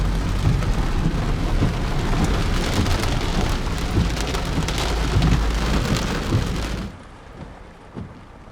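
Steady, loud rain drums on the roof of a storm-chasing vehicle parked during a July 2020 Illinois tornado outbreak, a dense continuous wash that drops off sharply near the end, leaving faint patter.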